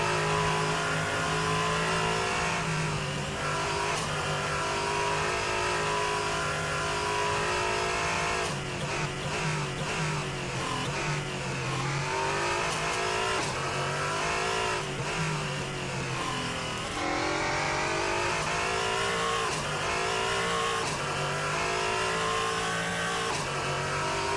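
Onboard an LMP3 prototype racing a lap of Silverstone, the engine roars loud and continuous, pitch sweeping up through each gear and dropping sharply on downshifts, with no talk over it.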